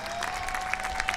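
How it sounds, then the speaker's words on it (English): An outdoor amphitheater concert audience claps briefly, a light scatter of hands at moderate distance over a steady background tone. "Give yourselves a round of applause, everybody."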